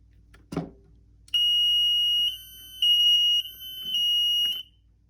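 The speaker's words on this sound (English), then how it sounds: "And there's the deviation alarm." A TCAD-1 temperature deviation alarm beeps in a steady high-pitched electronic tone, sounding in three long sustained bursts with short gaps, loud and close, after a brief knock at the start.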